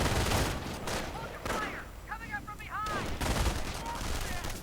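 MG42 machine gun bursts in a World War II strategy video game, with dense rattling fire and explosions mixed with whistling, whooshing sounds. A commentator talks over it.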